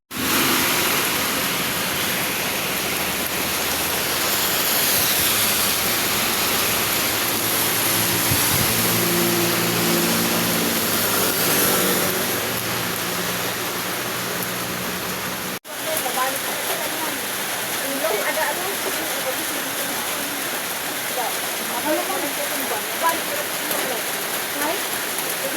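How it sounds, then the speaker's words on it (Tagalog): Heavy rain pours in a dense, steady roar that continues without a break, louder in the first half and then slightly thinner, with faint voices underneath. "Eto nga may mga kasama akong sumilong dito, gawa nga nang lumakas pa lalo yung ulan"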